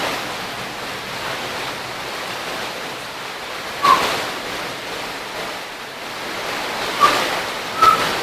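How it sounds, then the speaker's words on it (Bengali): Heavy rain falls steadily with wind, a dense continuous hiss like surf that swells into a few louder gusts, heard up close with no talking. "বৃষ্টির শব্দ শুনতে পাচ্ছ?"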